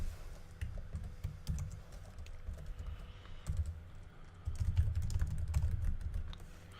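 Someone types JavaScript code on a computer keyboard, producing a steady, fairly close run of soft key clicks with brief pauses and a low background hum throughout.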